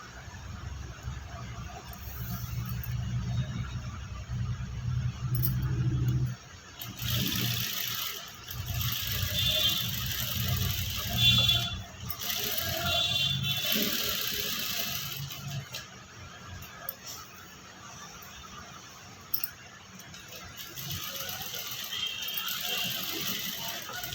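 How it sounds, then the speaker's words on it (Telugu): A sewing machine stitches a princess-cut blouse with a steady mechanical whir and ticking, close and fairly loud. It runs for most of the stretch with brief breaks and no talking. "ఇప్పుడు నేను కుట్టు అనేది వేస్తా చూడండి."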